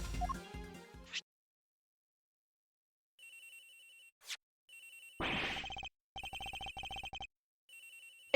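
A mobile phone rings in Ace Attorney Investigations, with electronic trilling bursts that start and stop in a repeating pattern after a short musical sting and a pause.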